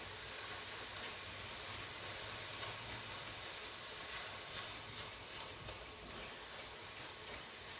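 Onions caramelizing in a pan hiss and sizzle in a steady, dense wash of noise while being stirred, close and continuous with no talking.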